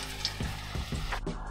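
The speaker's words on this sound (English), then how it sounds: "drop it in the grease" Floured pork chop seasoned with Everglades seasoning frying in hot grease, a close, steady crackling sizzle with a few soft pops and bubbling bursts, no talking.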